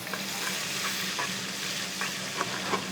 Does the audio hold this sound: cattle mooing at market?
no